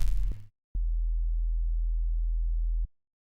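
A Phase Plant synthesizer tone with too many high harmonics holds as a steady, sustained pitch for about two seconds, then cuts off, following a brief buzzy burst at the start.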